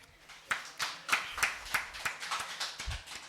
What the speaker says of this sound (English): Please welcome Ms. Janeta, if I'm not wrong, please pardon my pronunciation, Janeta Singh Ji on stage with a huge round of applause